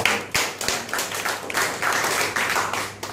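An audience at a motivational savings seminar claps in uneven bursts, a smaller group with distinct individual hand claps and a few sharp knocks rising and falling over a few seconds, fairly close and without speech.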